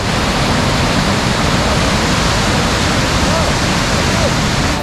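Swollen Alaknanda river rushing at Badrinath after rain, a loud, steady, unbroken roar of turbulent water filling the whole clip.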